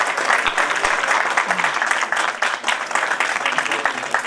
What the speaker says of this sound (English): So can I have a big applause to all the volunteers, please?